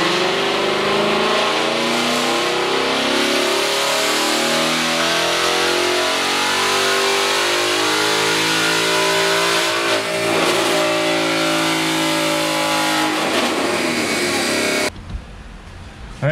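A stock-tune 2018 Ford Mustang GT roars loud and close on a dyno, its engine note climbing steadily through a long pull for about fifteen seconds before cutting off abruptly near the end.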